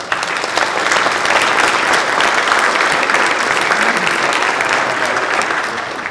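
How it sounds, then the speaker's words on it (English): A seminar audience of council presidents breaks into a round of applause, a loud, steady burst of many hands clapping that holds evenly throughout and tapers slightly at the end. "let's give them a round of applause"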